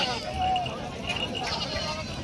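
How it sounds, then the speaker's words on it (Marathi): A local village goat bleats at a busy goat market in Jawala, Hingoli district, Maharashtra, its wavering cries heard among crowd chatter and nearby talking. "ही पण गावरान शेळी आहे"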